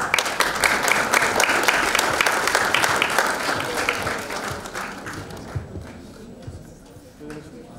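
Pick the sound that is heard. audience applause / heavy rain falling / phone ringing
audience applause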